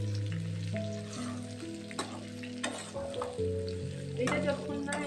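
Chowmein ingredients fry over a low flame while being stirred, giving a continuous close sizzle broken by several scraping spatula strokes, with no talking.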